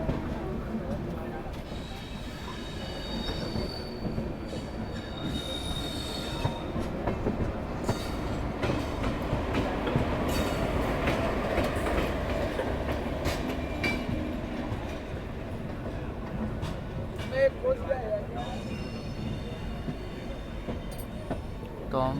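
The Bhind–Ratlam Intercity pulls into Indore Junction, heard from inside a general coach: a steady rumble and clatter of wheels, faint squeals and clicks as it slows, with someone talking over it.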